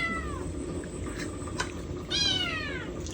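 A cat meows twice nearby, a short descending call first and then a louder drawn-out meow, with faint background noise and clicks between them.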